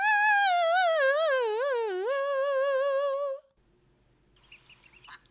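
A duck-quack sound effect plays as one long, wobbling, nasal honk lasting about three seconds, loud and alone, then cuts to faint background noise.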